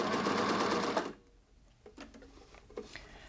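A coverstitch machine sews shirring with elastic in a loud, close, rapid mechanical whir for about a second, then stops, leaving soft clicks and fabric handling sounds.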